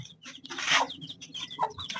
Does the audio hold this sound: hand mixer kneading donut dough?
no